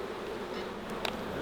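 Wild bees buzz in a dense, continuous drone at a kindergarten, a close, steady hum of many insects with one or two individuals whirring louder past the microphone near the end.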